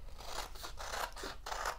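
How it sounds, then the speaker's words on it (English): Paper scissors snip repeatedly through an embroidery design and its backing paper, giving a series of close, raspy cutting strokes in an uneven rhythm with no talking. "I'm just gonna take a paper scissors and I'm gonna cut out the design, just roughly"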